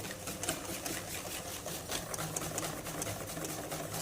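An electric whisk whips dairy double cream in a bowl, giving a steady, quiet mechanical whirr with a faint rhythmic pulsing throughout, heard alone with no talk.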